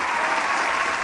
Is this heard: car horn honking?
no